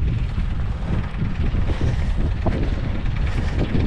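Two engines drive deep-well water pumps irrigating an okra field, giving a loud, steady, rumbling drone that runs continuously up close with no pauses.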